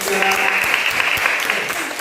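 Classroom applause for a student group of young learners, a dense steady patter of many hands clapping close by for about two seconds, with a few voices calling out over it.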